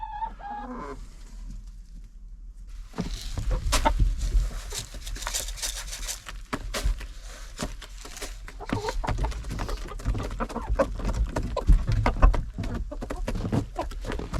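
Chickens in a winter coop cluck and shuffle close by in irregular bursts, with scattered clucks and rustling over a low background hum.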